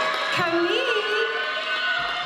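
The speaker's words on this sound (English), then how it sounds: "the crowd has gone wild" Spectators at a girls' senior night basketball game between Greensburg Salem and Highlands cheer loudly, with sustained crowd noise and high whoops that rise and fall across the gym.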